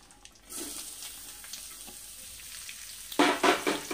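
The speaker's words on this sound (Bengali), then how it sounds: "এবার পেঁয়াজটাকে ভালো করে একটু ভেজে নেব।" Onions sizzle in hot oil with nigella seeds and bay leaf, a soft steady frying hiss, building to a louder burst of crackling near the end, with faint stirring scrapes.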